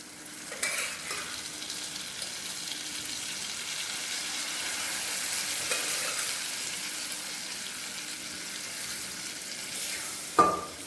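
Boiled chana dal being stirred into spices frying in a pan for Sindhi dal, a steady low sizzle with soft scraping from the spoon and a sharp clink of utensil on the pan near the end.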